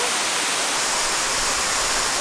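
Keo Waterfall, a waterfall beside a campsite, pours in a steady, loud broadband rush of water that fills the whole stretch without a break.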